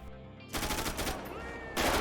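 Bursts of automatic gunfire in a GTA V zombie mod, fairly faint, a quiet lull giving way to a rapid string of shots and then a louder burst at the end.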